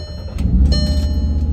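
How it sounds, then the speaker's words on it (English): A modified mk6 Volkswagen Jetta fires up through a loud aftermarket exhaust, a sharp start burst settling into a deep, rumbling idle close by. "let's give this car a little bit of a startup here so you can hear how loud that exhaust is"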